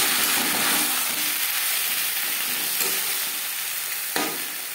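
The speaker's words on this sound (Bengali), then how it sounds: "10-15 সেকেন্ড 5 ফোড়ন লঙ্কা ভেজে নেওয়ার পর দিয়ে দেবো টমেটো।" Panch phoron whole spices and chili frying in hot oil, a dense, loud, continuous close sizzle that slowly eases, with a single sharp clack of a utensil near the end.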